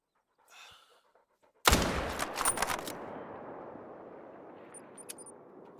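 A single loud rifle shot rings out in the hunting game theHunter: Call of the Wild during a moose hunt in New England mountains, with a sharp crack followed by a long rolling echo that fades slowly, heard after a brief quiet breath.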